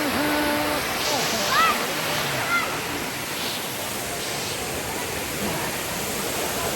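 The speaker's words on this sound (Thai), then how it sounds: "ตอนนี้นะครับวิวข้างหลังของเราก็เป็น น้ำตก" Tam Nang waterfall in Si Phang Nga National Park, dropping from a high cliff, gives a steady broadband rush throughout, with brief speech-like tones near the start sitting over the roar.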